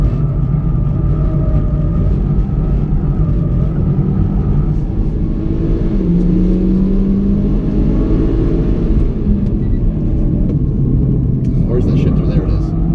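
A Mitsubishi Lancer Evo MR engine rumbles steadily while the car drives around a figure-eight course, with the drone shifting gently in pitch as it accelerates and lifts off, under continuous talking from inside the car.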